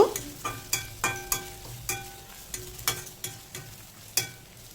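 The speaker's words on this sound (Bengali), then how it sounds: "হাফ চা চামচ পরিমাণ হলুদ গুঁড়ো চেরা কাঁচা লঙ্কা 30 থেকে চল্লিশ সেকেন্ড একটু কষিয়ে নেব" Turmeric powder and slit green chillies sautéing briefly in a pan for a moong dal and drumstick-leaf dish, a soft sizzle punctuated by regular, close spatula taps and scrapes, roughly every half second, with no talking.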